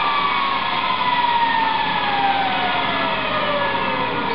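A Kaylor Kit electric motor on a small demo box with its control board spins at high RPM, giving a steady, loud whine with a slowly falling pitch that carries alone throughout.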